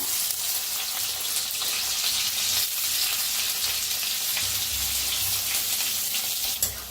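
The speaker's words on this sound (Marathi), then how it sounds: "बघा कांदा असा छान असा भाजायचा" Finely chopped onion sizzles loudly and steadily in hot oil in a kadai, a dense crackling hiss that carries on unbroken at close range.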